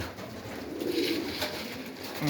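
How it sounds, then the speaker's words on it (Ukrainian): A pigeon coos softly and then flaps away from a loft, the low cooing rising briefly under a constant rustling background, close and fairly quiet. "Теж голубочка злетіла."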